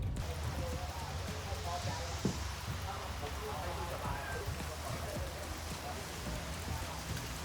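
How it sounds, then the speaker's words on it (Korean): Steady rain patters on the outside of a Hyundai Ioniq 5 electric car driving a Thai highway during a Southeast Asia road trip, a continuous even hiss with scattered drop taps, no talking. "지금 보시다시피 비가 추적추적 내리고 있고"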